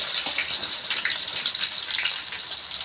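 Garlic, ginger, green chili and onion sizzle steadily in hot oil for mushroom fried rice, a close, continuous hissing fry with no voices.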